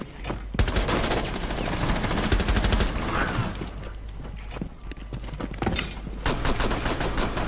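Gunfire in the Rainbow Six Siege video game: rapid automatic bursts and repeated single shots in several clusters, loud and close, with brief pauses between volleys.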